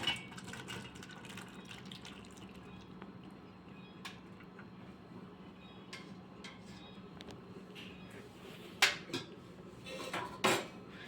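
Boiled pasta is poured into a strainer set over a large pot, heard as faint water pouring with scattered metallic clinks and clatters of cookware, two louder knocks coming near the end.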